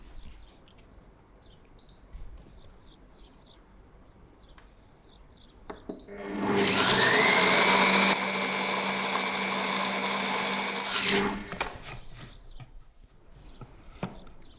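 An electric blender whips a sour cream sauce, starting abruptly with a loud, steady whirring roar that holds for about five seconds and then cuts off, with quieter kitchen sounds before and after.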